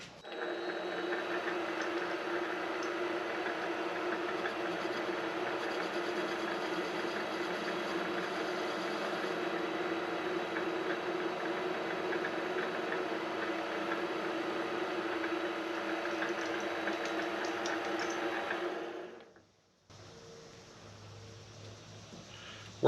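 A mini lathe turns a metal punch blank with a steady, continuous motor whine and cutting hum for about nineteen seconds before stopping abruptly, leaving a faint quieter mechanical tail.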